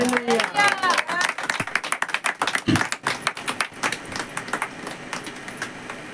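A church congregation at a Sunday service claps together, a dense burst of handclaps that thins and fades, with a voice speaking over the start.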